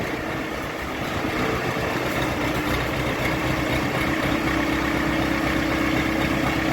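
A four-cylinder, water-cooled, four-wheel-drive diesel tractor engine idles steadily nearby, a continuous low rumbling chug that holds an even level throughout.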